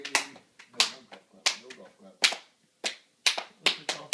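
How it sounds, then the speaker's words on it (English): A few people give a mock golf clap after a dramatic Christmas poem reading, a handful of soft, separate hand claps and snaps in a loose, uneven rhythm, close by, with faint voices in between. "golf clap. No golf clap."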